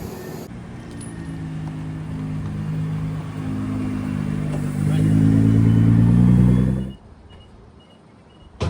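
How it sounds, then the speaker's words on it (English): Track-day cars roll in at a race track, a low engine drone swelling louder and nearer with rising revs before cutting off sharply, leaving quieter background. "Some of the cars are rolling in."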